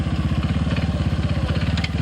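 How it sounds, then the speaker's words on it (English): A trials motorcycle engine at the 1986 FIM Observed Trials World Championship in Ioco, British Columbia, lugs at very low revs with a slow, uneven, thumping beat, close and loud, as if nearly stalling. "Just about killed his engine though."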